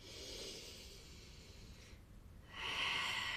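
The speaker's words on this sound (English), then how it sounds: "One more big breath here." A deep breath during a yoga session: a long audible inhale, a brief pause, then a stronger, breathier exhale close to the microphone, with no talking.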